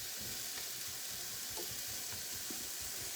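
Food sizzles steadily in hot oil in a pan, a dense continuous crackle at moderate distance with occasional soft stirring knocks and no talk.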